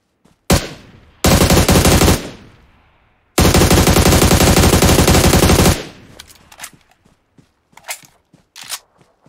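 Automatic gunfire in the mobile battle royale game PUBG Mobile: a single shot followed by two long, loud sustained bursts, then scattered sharp footstep-like clicks and taps.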